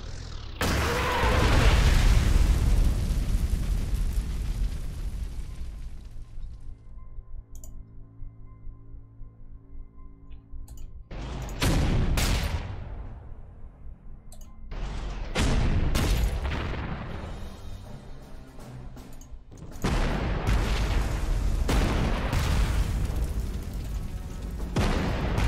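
Artillery fire in the strategy game Panzer Corps 2, a series of loud booming explosions and blasts with rumbling decay, several separate heavy bursts across the span, with quieter gaps between.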